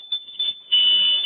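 ADT burglar alarm in a home garage, a piercing high electronic tone sounding in short bursts before holding steady, close and loud, with no voices.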